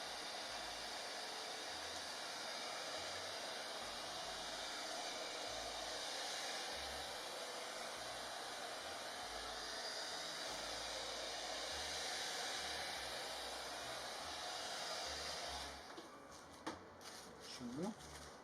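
Hair dryer blowing on a decoupage napkin glued to a wooden nut box, a steady close hissing roar that runs for most of the stretch before cutting off, followed by brief handling noises and voice.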